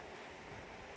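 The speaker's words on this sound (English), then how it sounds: "It's very windy where I am at the moment." Steady, loud rushing wind buffeting the microphone with a broad, constant roar and no other sounds.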